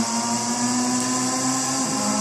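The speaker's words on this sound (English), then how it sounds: "Listen to all those engines, all those gear changes, sounds fantastic." Several racing car engines drone together in a steady, loud mechanical hum during a league race, with a slight shift in pitch near the end but no distinct gear change standing out.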